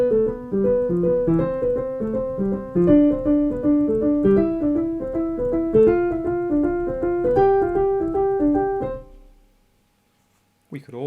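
Bowed string instrument working through a warmup exercise in an inverted short-long dotted rhythm, a continuous run of clear, close notes that fades on a final sustained tone, then a short silence.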